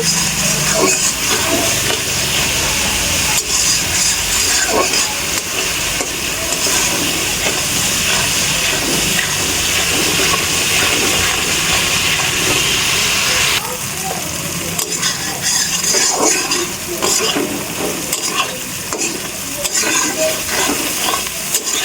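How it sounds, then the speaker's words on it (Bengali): A spice paste fries in a pan for a yam and tilapia dish, making a loud, constant close sizzle and hiss with occasional stirring scrapes, the frying noise shifting slightly partway through, with no speech. "মশলাটাকে আমি ভালো করে কষিয়ে নেব"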